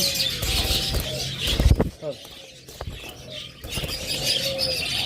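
A pair of American yellow pet birds chirp and call in short, high tweets amid a busy background, with a person talking over them close by.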